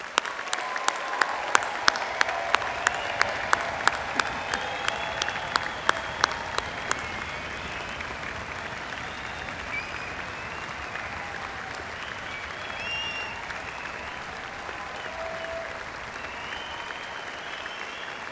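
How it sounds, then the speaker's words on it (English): A graduation-ceremony audience in a large hall gives a long, sustained round of applause for award and prize recipients, with a few sharp individual claps standing out early before it settles into a steady dense wash. "applause."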